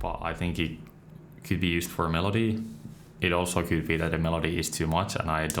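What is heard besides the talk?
No everyday noise stands out behind the speech.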